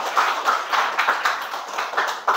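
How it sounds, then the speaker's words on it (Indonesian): Students in a vocational high school classroom clap for a presenting group, a short burst of uneven, fairly close hand claps with a rhythmic pulse, no talk over it. "Tepuk tangan dulu."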